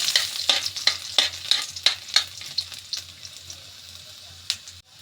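Garlic sautés in cooking oil in a home kitchen, a steady close sizzle broken by a run of regular spatula scrapes and stirs against the pan.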